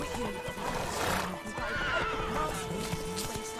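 Roach, Geralt's horse in The Witcher 3, neighs and whinnies while hooves clip-clop at a steady trot, close and clear over game ambience.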